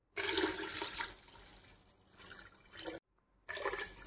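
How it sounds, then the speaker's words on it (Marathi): Khapli emmer wheat being washed in water at home, with loud bursts of pouring and sloshing water, a brief silent gap near the end, then more splashing. "अजून धुवायचा याला 2-3 वेळा चांगला स्वच्छ।"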